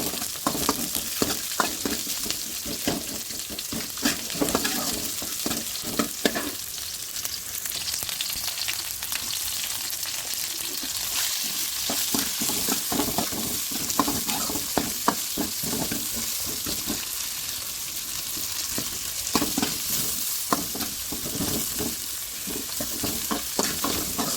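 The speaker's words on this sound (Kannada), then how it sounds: "ಈರುಳ್ಳಿನ ಹಾಕಿ ಹಾಗೆ ಸ್ವಲ್ಪ ಫ್ರೈ ಮಾಡ್ಕೊಳ್ಳುವ." Chopped onions frying with salt in a pan for rasam, a steady close sizzle broken by repeated scraping stirs of a spoon against the pan, with no talking.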